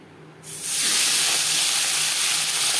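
Sugar hitting hot refined oil in a pan while cooking singi fish curry with potato and green banana, bursting into a loud, steady sizzling hiss that begins abruptly after a quiet moment and holds strongly throughout.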